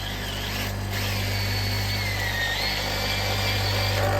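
A power drill bores a hole into a homemade woodturning sharpening jig, making a continuous loud whirring drone with a low hum under it and a faint whine that shifts in pitch; no speech is heard.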